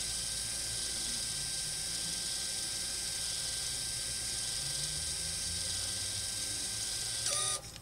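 An electronic parking brake caliper motor runs steadily, a close, constant mechanical whir with a high whine, as the caliper is wound back, ending in a brief clunk.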